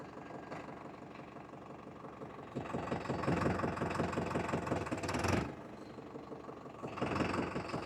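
Farmtrac 6055 Worldmaxx 4WD tractor, a 55 HP non-turbo diesel, running in forward gear: a steady, close engine drone that swells louder midway with a rhythmic knocking pulse, then eases and rises again.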